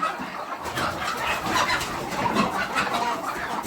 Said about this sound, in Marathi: एक नंबरचे ओरिजिनल गावरान कोंबडे या ठिकाणी मिळतात